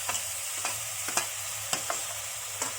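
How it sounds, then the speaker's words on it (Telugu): Onion paste fries in a pan, a steady close sizzle with a spoon stirring and scraping at intervals, no voices. "మిరియాలు, ఆనియన్ పేస్ట్ వేయాలి"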